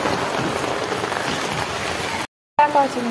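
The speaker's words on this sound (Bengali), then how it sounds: "প্রচন্ড বৃষ্টি হচ্ছে।" Heavy rain pours down in a steady dense hiss, briefly cut off near the end before returning with a faint voice over it.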